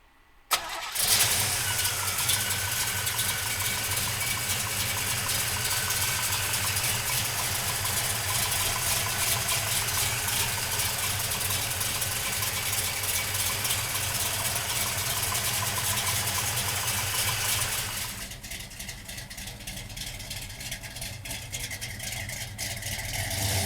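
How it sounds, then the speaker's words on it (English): A 1967 Chevrolet Chevelle's big-block V8 fires with a sharp start, then holds a loud, steady, rumbling idle for about seventeen seconds before dropping to a lower, quieter idle near the end. "let's fire this big block up"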